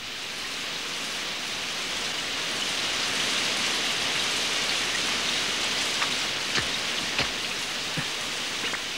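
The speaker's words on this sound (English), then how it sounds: "Rain." Steady rain falls in a cartoon, a dense even hiss of drops on surfaces that continues throughout, with a few sharper individual drips standing out near the end.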